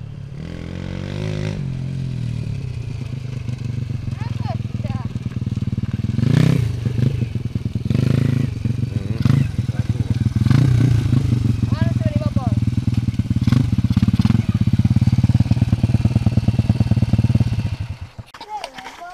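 A small moped engine, a Jokken Samurai 70 Evolution, rumbles steadily for most of the clip, with clattering and scraping noises over it, before cutting off near the end.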